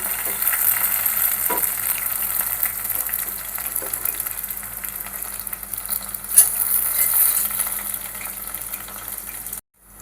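Onions and green chillies fry in hot oil for a bitter gourd tamarind curry, giving a steady close sizzle with occasional stirring scrapes and one sharper clink near the end before the sound cuts off.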